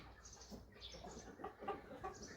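Quiet, muffled clucking from roosters at a livestock market, a few short soft calls toward the end over steady background noise.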